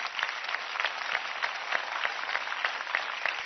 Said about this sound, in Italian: fate un applauso a questa donna stupenda